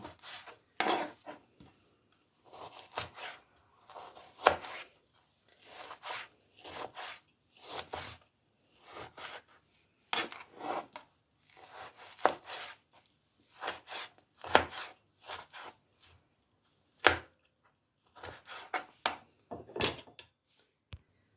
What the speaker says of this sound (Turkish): Şöyle onları da aynı şekilde kare kare doğruyorum.